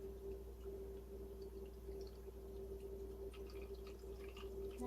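Tap water runs into a cheesecake water-bath pan, a faint, steady trickle with scattered drips under a low background hum, quiet and close with nobody speaking.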